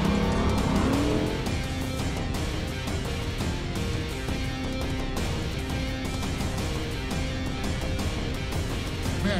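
A short course race truck takes the final corner of a race, its engine roaring loud and steady with tire noise, under continuous crowd and track ambience.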